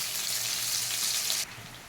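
Ginger paste dropped into hot oil, giving a steady close hiss of sizzling that drops sharply in level just before the end.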